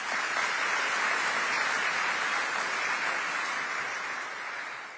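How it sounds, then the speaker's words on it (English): Audience at the Qatar Economic Forum gives a big round of applause, a dense, even hiss of many hands clapping that holds steady and begins to fade toward the end. "let's thank them all with a big round of applause"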